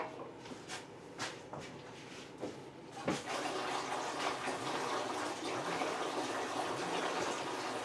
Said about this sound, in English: now let's put some cool water in there to